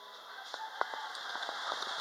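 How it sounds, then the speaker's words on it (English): Rain falling outdoors in the Philippines, a steady soft wash with scattered sharper drop and patter hits, close and fairly quiet throughout. "Oh shucks, it's raining."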